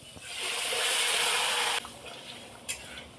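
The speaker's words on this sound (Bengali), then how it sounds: "দিয়ে দেবো গরম জল" Hot water poured into a pan of cooked fish curry masala, a steady rushing pour lasting over a second that stops abruptly, followed by quiet kitchen sounds and a small clink.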